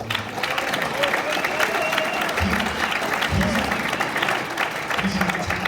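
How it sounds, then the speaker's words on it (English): A room full of solar sales team members at a Las Vegas meeting applauds for a colleague, a dense steady clapping with scattered cheers and voices under it. "everybody clap for Robert Blessing"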